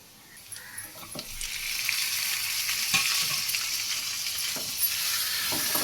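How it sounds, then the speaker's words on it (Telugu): Marinated chicken and onions frying in a pan, a steady hiss of sizzling oil that swells and stays loud, with a few stirring knocks close by. "మ్యారినేట్ చేసుకున్న చికెన్ని ఇప్పుడు ఇందులో వేసుకోవాలి"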